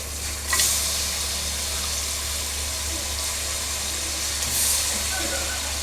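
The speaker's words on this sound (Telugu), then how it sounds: "మటన్ కూడా అంతా ఇందులో వేసేసి కలిపేస్తున్నాను." Mutton pieces are stirred into hot oil in a pan for a village-style curry, giving a continuous soft sizzle with occasional scraping of the spoon against the pan, fairly quiet and close.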